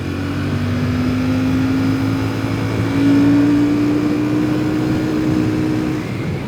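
Royal Enfield Classic 650 Twin motorcycle accelerating in second gear, with a steady engine drone whose pitch climbs gradually as it pulls, loud and close throughout with no talking.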